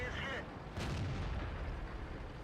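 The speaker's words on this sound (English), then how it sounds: "Here I fire on the move at the Su-100Y" A boom from an Excelsior tank's gun fired on the move in World of Tanks, one loud blast with a rolling low rumble trailing off.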